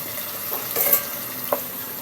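Vegetables such as string beans, sponge gourd and squash sauté with shrimp paste and a little pork, giving a soft steady sizzle with brief stirring scrapes near the middle and end.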